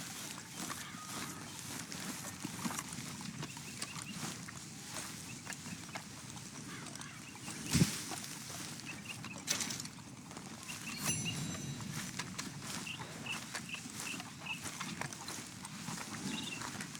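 Horse hooves clip-clop in Red Dead Redemption 2, a steady walking rhythm at moderate distance, with faint birds and ambient game noise around it and a brief louder knock partway through.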